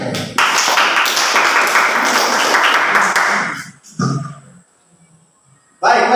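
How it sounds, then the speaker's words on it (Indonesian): Dense, loud applause from a church congregation fills the first few seconds with steady clapping, then cuts off and fades into near silence with a brief noise before it. "Baik, tepuk tangan dulu untuk kalian."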